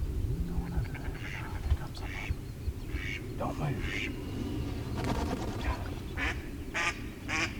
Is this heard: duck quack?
yes